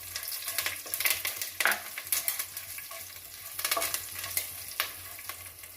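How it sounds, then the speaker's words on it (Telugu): Seeds, curry leaves, cumin, chana dal and urad dal sizzle steadily in hot oil as a tempering for cucumber dal, with frequent scraping stirs from a spoon against the pan. It sounds close, and no one speaks. "ఎర్రగైనాక ఏదో తాలింపు గింజలు, కరివేపాకు, జీలకర్ర, శనగబ్యాళ్ళు, ఉద్దిబ్యాళ్ళు అన్నీ తరువాతకి వేస్తున్నానండి."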